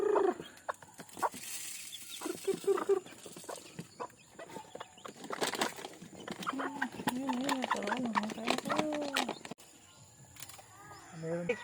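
Mother hen and her chicks in a backyard, with soft clucking and chick peeps scattered through, close by and moderate in level, under ongoing talk.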